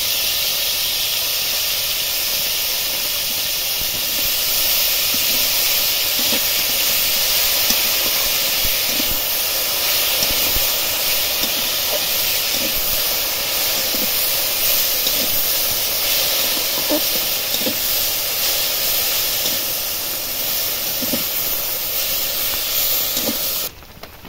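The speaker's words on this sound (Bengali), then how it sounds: "আলুগুলো হালকা করে ভেজে নিয়েছি" Potatoes frying lightly in a wok of oil for egg chowmein, giving a steady, loud, hissing sizzle that runs unbroken throughout, with a few faint clinks scattered underneath.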